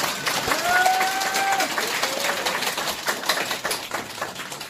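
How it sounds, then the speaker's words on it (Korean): Audience applause at a Korean political party rally, a continuous wash of clapping from a crowd with a couple of brief whistling tones near the start, fairly loud and steady throughout. "다시 한번 큰 박수 부탁드리겠습니다"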